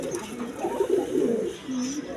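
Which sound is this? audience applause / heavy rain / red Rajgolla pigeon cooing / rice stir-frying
red Rajgolla pigeon cooing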